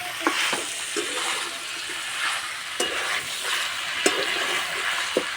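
Chicken meat fries in a hot pan for a chicken curry with new potatoes, a steady broadband sizzle broken by several sharp stirring scrapes and clinks, close and loud, with no talking.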